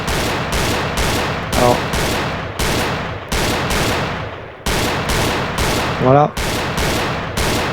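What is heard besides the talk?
gunfire in the VR video game Gun Club VR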